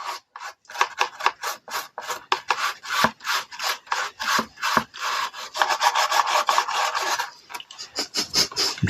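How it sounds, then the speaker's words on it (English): A brush scrubs back and forth over a piece of velvet in quick, steady rasping strokes. The strokes are close and fairly loud, repeat many times in a rhythmic scratching pattern, and speed up into a denser stretch near the end. "Because I'm gonna brush that velvet."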